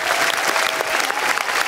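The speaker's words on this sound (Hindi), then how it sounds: "इनके लिए तालियां।" Studio audience applause on a comedy talk show, a short burst of dense, loud clapping from a close crowd.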